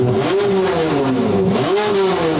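A rebuilt straight-piped Ferrari V12 revs loud and close after a cold start, its pitch swooping up and down in blips over a rough idle.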